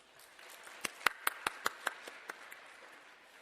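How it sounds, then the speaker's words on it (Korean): A small scattering of hand claps from a church congregation thanking a guest preacher at a prayer mountain service, about eight or nine distinct, separate claps spaced evenly in the middle of an otherwise quiet room. "오늘 은혜의 말씀을 전해주신 강사님께 우리 감사의 박수를 드리겠습니다."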